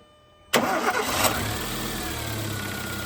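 A repaired car engine cranks and fires about half a second in, then settles into a steady, close idle with a slight rev early on, no talking over it.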